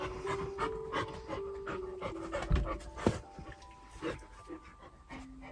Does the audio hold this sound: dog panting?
yes